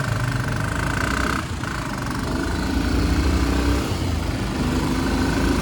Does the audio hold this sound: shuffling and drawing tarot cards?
no